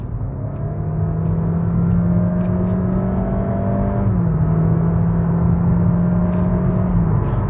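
A Honda HR-V's 1.5 litre hybrid engine drones loudly and steadily under acceleration, its tone holding then dropping slightly partway through as the car keeps pulling, with no one speaking.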